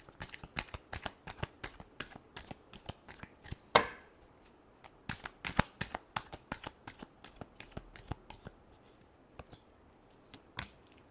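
Tarot cards are shuffled close up, a quick run of crisp riffling slaps and flicks in an uneven rhythm that goes on throughout with no talking.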